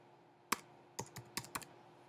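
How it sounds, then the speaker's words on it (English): Five crisp keystrokes on a computer keypad, a sharp single click followed by a quick cluster of four taps, close and fairly quiet against a faint steady hum, with no voices. "So I type Control I on my keypad"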